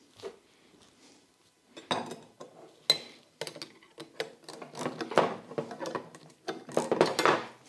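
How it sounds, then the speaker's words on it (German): Tightening a screw on the wheel of an Enders Polo 2.0 patio heater, close metallic clicks and ratcheting taps in irregular bursts that grow busier toward the end, with no talk. "ich kann jetzt gleich die Schraube anziehen"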